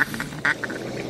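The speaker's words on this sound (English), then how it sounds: "got a duck coming right down the middle of the pond" A mallard duck on a pond during a Kansas duck hunt gives a quick series of loud, nasal quacks, close and clear, one burst standing out mid-sequence.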